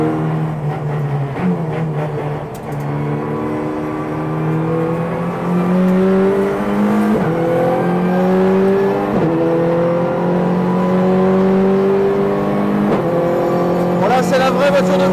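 A race car engine revs hard from inside the cabin, pitch climbing and dropping in repeated surges with sharp shifts between them, loud and close, with a voice speaking over it.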